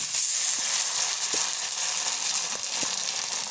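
Sweet potato rolls coated in batter frying in hot vegetable oil, a loud, even sizzle with a few faint bubbling pops, heard up close and alone.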